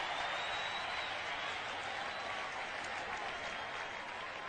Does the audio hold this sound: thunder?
no